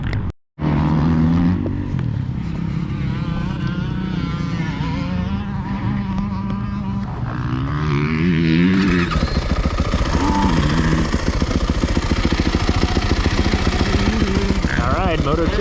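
A motocross motorcycle is ridden round the track, its engine buzzing loud and close with revs rising and falling through gear changes, then a harsher, steady roar under wind noise as laps continue.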